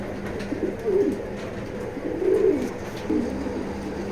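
Racing pigeons coo in low, rolling bursts, three soft phrases spaced over a few seconds against a steady background hum.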